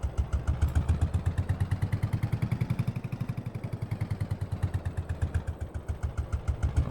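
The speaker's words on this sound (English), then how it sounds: "the tractor just hasn't got the horsepower required to pull that up" A tractor engine in Farming Simulator 22 chugs and labours while pulling a load up a slope, a steady rapid pulsing throb that loses power, loud and close with no talk.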